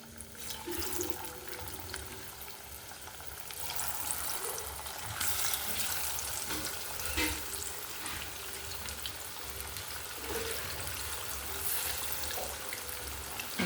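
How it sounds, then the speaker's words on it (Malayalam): Chopped onion, capsicum, ginger, green chili and garlic sizzle steadily in hot oil for chili chicken, a loud continuous hiss with occasional sputters and stirring clatter. "എണ്ണ ചൂടായിട്ടുണ്ട് കേട്ടോ, നമുക്ക് ഇട്ട് കൊടുക്കാം കേട്ടോ."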